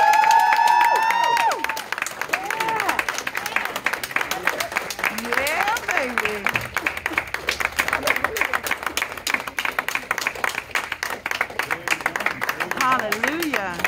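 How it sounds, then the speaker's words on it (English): A church congregation at an ordination service for a deacon and deaconess claps steadily for the whole stretch, under singing and excited voices. "let's clap our hands and give God"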